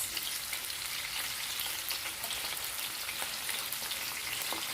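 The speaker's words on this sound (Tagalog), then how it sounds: "ang pagprito ng ating isda" Pieces of fish frying in hot oil for a crispy fried fish dish, giving a steady, dense crackling sizzle that holds at an even level throughout with no voices.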